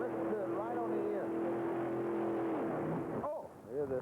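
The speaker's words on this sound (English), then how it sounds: "Here the two backfires out of the left bank, and that's not good." A Diamond T pulling truck's engine at a tractor pull holds a loud, steady drone that rises with a shift, then drops out near the end as the left bank backfires with sharp pops before the roar resumes; voices can be heard over it.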